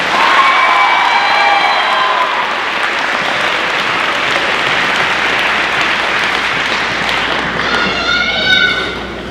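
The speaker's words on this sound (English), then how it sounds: "Let's give them all one more big round of applause." An audience at a high school senior signing day bursts into loud, sustained applause with scattered cheers and whistles, the clapping steady throughout and swelling again near the end.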